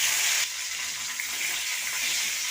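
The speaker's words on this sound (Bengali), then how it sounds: "আলুটাকে একটু হালকা করে ভেজে নেব।" Potatoes coated in salt and turmeric fry in hot mustard oil in a wok, giving a soft, steady sizzling hiss that dips slightly after the first half second and continues quietly on its own.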